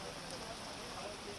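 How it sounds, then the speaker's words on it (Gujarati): Heavy rain pours down in Ahmedabad as a steady, dense hiss that fills the whole moment without a break. "અમદાવાદમાં ધોધમાર વરસાદ આપ જોઈ રહ્યા છો"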